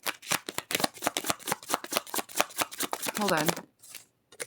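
A deck of tarot cards is shuffled quickly by hand in rapid, close flicking bursts, followed by a brief spoken word and a softer card being drawn from the deck.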